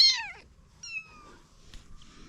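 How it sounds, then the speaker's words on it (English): A wild baby kitten gives two thin, high meows close by, one at the start and a second a moment later, with quiet pauses around them. "There's a baby kitty."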